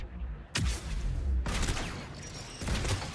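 Gunfire from a headshot during the battle for Rannoch in the Mass Effect 3 video game, heard as loud, close bursts of shots and booms in three clusters over continuous combat noise.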